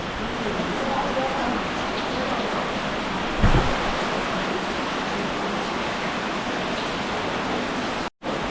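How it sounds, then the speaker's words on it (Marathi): Heavy May downpour in a Konkan village, a constant close roar of rain hitting surfaces, with a brief louder knock midway and a short dropout near the end. "मे मध्ये एकदम जोरदार पाऊस"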